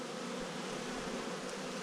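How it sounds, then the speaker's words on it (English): Honey bees hovering and landing at a hive in far west New South Wales, a dense continuous buzzing drone from many insects close by, steady and unbroken with no voices. "the way these bees are sort of just hovering in, landing and then going in"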